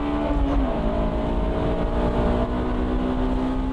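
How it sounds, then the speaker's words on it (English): Honda S2000 prototype accelerating hard on the old Nürburgring course in Germany, its engine note climbing steadily in pitch, loud and close throughout. "a rare clip of the S2000 prototype being tested on the old course at Germany's famous Nürburgring"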